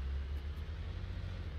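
Tractor engine from the Farming Simulator 19 video game, a steady low rumbling drone running continuously and fairly loud with no voices over it.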